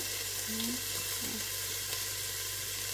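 Cut pork ribs hitting a hot pan for pork adobo, a steady loud sizzle and frying hiss with faint clinks, constant and close, with no talking.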